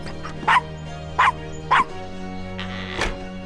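Castro, a small dog in the Gabriel Knight adventure game, gives three sharp yapping barks in quick succession, then a softer fourth yip after a short pause, heard over a low steady game hum.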